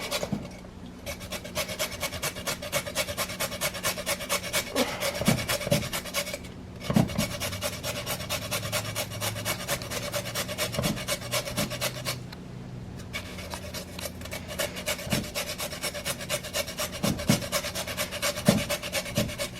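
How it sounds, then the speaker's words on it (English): A carrot being grated by hand on a hand grater: steady, rhythmic rasping strokes repeat close-up throughout, with two brief pauses between bursts of scraping. "Just be real careful when you're doing this not to rub your hand against the grater."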